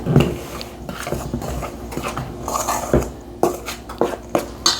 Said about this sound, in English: Now we go ahead and mix this mixture.